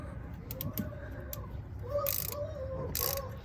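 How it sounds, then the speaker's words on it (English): A hand ratchet clicks in short bursts while fastening a bolt under the hood of a GMT800 truck, the quick pawl ticks close and fairly clear against a low background hum. "Now I can get in with my ratchet."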